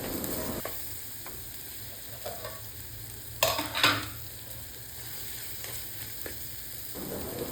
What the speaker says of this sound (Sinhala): මේ ටික හොඳට ඇතිලිය අඩිය අල්ලන්නේ නැති වෙන්න හොඳට කලවම් කරගන්නයි ඕන.